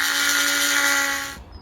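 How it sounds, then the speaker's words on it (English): A small burr on a rotary tool whines steadily while drilling a tiny hole in a steel touchmark stamp, a close, loud high-pitched buzz that cuts off abruptly near the end. "I'm just going to add it in using this tiny little burr on the end of my rotary tool here."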